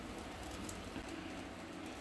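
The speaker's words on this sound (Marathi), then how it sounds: "मित्रांनो पाऊस बघा कसो लागता" Heavy monsoon downpour in the Konkan region, a steady dense hiss of rain falling close by with no break, loud and continuous throughout.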